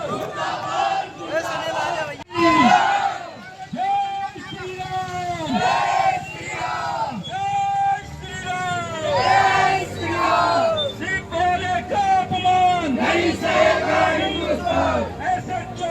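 A protest crowd in Punhana city chanting slogans against a police SHO, heard as loud, close, rhythmic group shouts repeated in waves over a continuous crowd backdrop.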